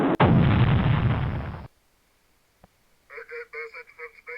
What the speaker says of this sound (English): 2 missiles and a torpedo explosion.